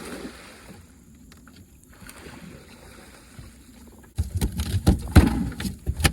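A fishing boat heading upriver for catfish, with quiet water and hull noise at first, then louder splashing and rumbling bursts as it gets moving.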